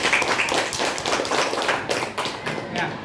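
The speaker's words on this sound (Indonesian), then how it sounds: "Tepuk tangan untuk kita semua." Audience clapping at a school presentation, a dense spread of hand claps filling the room at steady loudness, with faint voices mixed in underneath.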